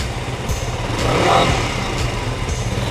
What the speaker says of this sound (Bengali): চলুন বাইকটির সাউন্ড শুনে আসি।